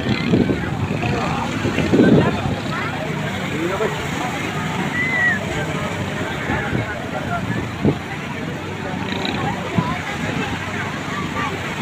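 Racing outrigger boat engines roar during a village boat race in Antique, a rough continuous engine drone heard from shore amid heavy wind buffeting the microphone and an excited voice talking over it.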